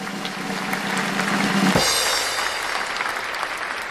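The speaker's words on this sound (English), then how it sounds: "Let's give a round of applause to Harsh." Applause from a live audience for the winner of a futures trading contest: steady, close, dense clapping that swells slightly and then eases off, with a few faint voices mixed in.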